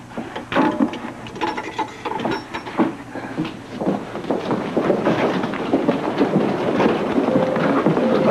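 Rain falls heavily during a storm, a dense broadband wash with rumbling low swells that suggest thunder, continuous and fairly loud with no voices.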